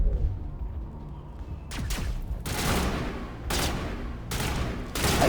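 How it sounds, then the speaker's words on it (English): Shotgun blasts in the video game Mass Effect Legendary Edition, played on PS5: several loud, booming shots at irregular intervals, each with a sharp crack and a long rumbling tail, over a steady background of game ambience. "I'm liking this shotgun, but I have to actually blast my controller to get it to shoot"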